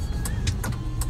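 Steady low rumble of road traffic heard from inside a car stuck in slow traffic, with a constant engine and road hum and a few brief mid-range bursts of passing noise, no talking.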